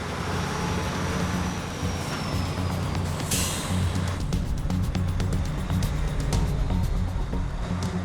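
A massive abnormal load truck on an M4 motorway slip road, with a loud, continuous low engine rumble, a hiss of air brakes and surrounding traffic noise.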